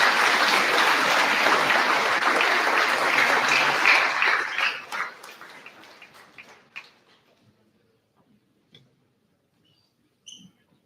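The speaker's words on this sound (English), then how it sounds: "Please give a round of applause for our 2025 Female St. Joseph Sport Award winner, Coral Beecroft." A school awards ceremony audience applauds the 2025 female sport award winner, a dense burst of clapping that holds steady for several seconds, then thins and dies away into near silence with a few faint scattered claps.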